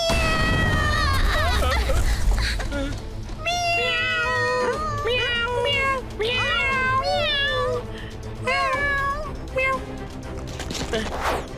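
A cartoon cat gives a run of loud, drawn-out meows and wailing cries, rising and falling in pitch, with short breaks between calls. The cries sound like a voice doing the cat.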